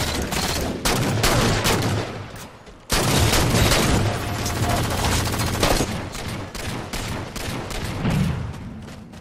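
Gunfire in the video game Halo 4 rattles almost nonstop in dense, loud automatic bursts with a brief gap near the three-second mark, heavy and close throughout the firefight.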